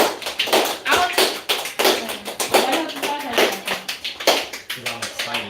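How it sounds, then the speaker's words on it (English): A group claps together in quick, steady rhythm, close and loud throughout, with voices mixed in beneath the applause. "Clap it up, y'all."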